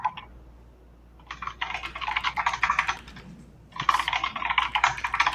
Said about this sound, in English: Look at us, both with our clacky keyboards.